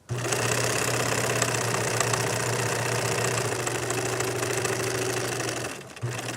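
An electric sewing machine running a short, small stitch, with a steady fast mechanical whir and rhythmic needle knocking, close and loud, that slows briefly near the end before resuming.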